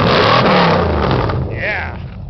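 A car engine revs hard up close, a loud, throaty roar that swells and then eases off.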